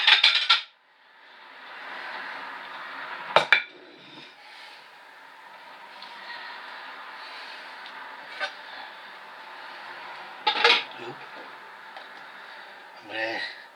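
Plates and dishes being handled in a home kitchen while making meat and potato pie, with sharp clinks and clatters scattered over a steady background hum, a few louder knocks near the start and middle.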